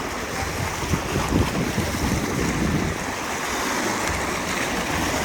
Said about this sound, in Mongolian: Ийм сайхан давлгаатай.